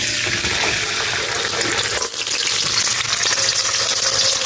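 Chickpeas and a bay leaf dropped into hot oil, giving a loud, bright continuous sizzle with a brief dip midway before frying resumes.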